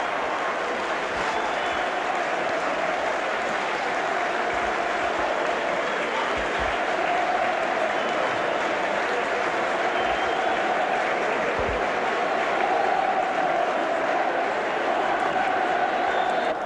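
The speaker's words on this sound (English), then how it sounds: "the Warrington fans over in that far corner now give their players a tremendous round of applause" Warrington rugby league fans in a far corner of a stadium applaud their players after a championship final win over Halifax, a distant, steady roar of clapping and crowd noise that holds evenly across the whole stretch.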